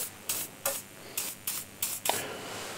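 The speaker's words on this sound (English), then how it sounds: "I'll just spray a WD-40 just to degrease" WD-40 spray can spraying onto a rag to degrease tools, giving six short hissing bursts at an uneven pace, close and fairly quiet with brief gaps between them.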